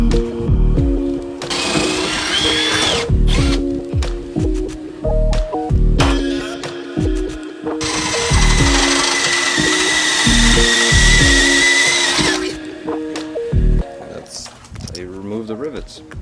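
Power drill bursts while rivets are drilled out of the body of a totaled 2007 Acura TSX during its rebuild, with repeated short whirring pulses and a longer sustained high whine between them, close and loud, with talking in the background.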